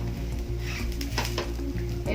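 Food sizzles steadily in a pan over low heat as it is pressed down while frying, a dense, continuous crackle with faint utensil touches, no talking.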